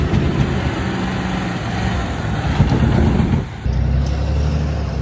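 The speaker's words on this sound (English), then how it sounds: "Got the Tremor and the Dually get this trailer out." Two pickup trucks, a Ford Tremor and a dually, strain to drag a heavy trailer free on the Glamis sand dunes, engines droning and revving steadily up close, with a brief dip before the rumble resumes.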